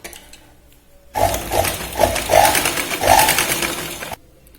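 Sewing machine running in steady bursts while stitching the shoulder seam of a cotton boat-neck kurti, a loud close whirring from about one to four seconds with silence before and after.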